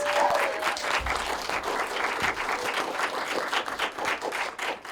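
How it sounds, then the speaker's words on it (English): An audience applauds the films shown at a community screening and awards ceremony, a loud, dense burst of many hands clapping close by that holds steady for several seconds. "Let's give it another round of applause for all those movies"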